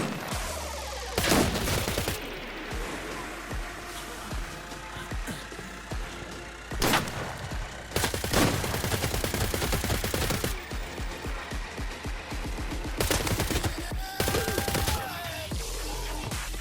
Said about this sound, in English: it's a 100-round AK-74